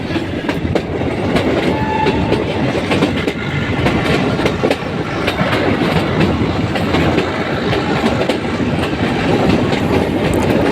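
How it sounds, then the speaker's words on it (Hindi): A metre-gauge Mavli–Marwar Junction express train departs Kankroli Junction, its loud, continuous rumble and rhythmic clickety-clack of wheels on rail joints filling the whole stretch, with no talk over it. "ये हमारी मावली मारवाड़ जंक्शन एक्सप्रेस निकल चुकी है अपने रफ्तार के साथ"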